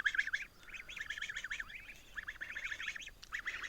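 Faint honking calls from geese grazing outdoors, a rapid series of nasal honks repeating in bursts, somewhat distant.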